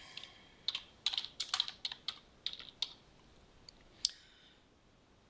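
Typing on a computer keyboard, a quick uneven run of crisp key clicks in short bursts with a final louder tap, close and alone without talk.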